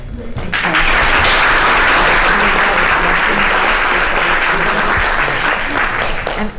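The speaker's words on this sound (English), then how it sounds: "as we're applauding athletics" Sustained applause from a large audience at a school committee meeting, a dense, loud clatter of clapping that starts quickly and holds steady for several seconds, with some voices mixed in.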